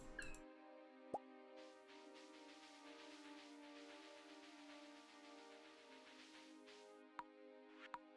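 Classic orange cat in Stardew Valley giving a short high meow near the start, followed by a sustained game music bed with a few light plinks and blips.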